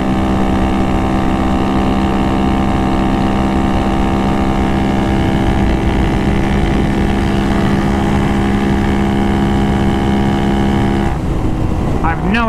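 A 300cc engine-swapped Honda Grom with 12-inch tires holds a loud, steady high-pitched drone at full throttle around 70 mph, with wind buffeting the microphone, before the pitch shifts near the end.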